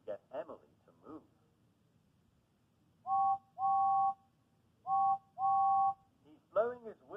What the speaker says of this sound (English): Blowing his whistle at her as loudly as he can.